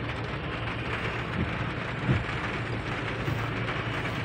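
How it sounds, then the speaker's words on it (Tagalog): Heavy typhoon rain falls during a flooded road crossing as a steady, dense hiss. Faint low rumbles and thuds sit beneath it, and no voices are heard. "Pag itong ulan lumakas pa"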